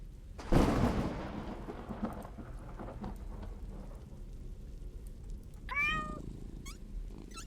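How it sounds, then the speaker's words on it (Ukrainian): A loud thunder crack opens over steady rain, then a video game cat meows near the end, a short rising cry standing out above the rainfall. "Кота чую."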